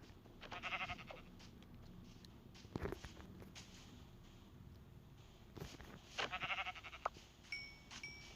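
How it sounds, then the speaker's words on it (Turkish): Sheep bleating in Minecraft survival gameplay, two short bleats several seconds apart over quiet background ambience with faint footsteps. "Koyun koyun koyun koyun."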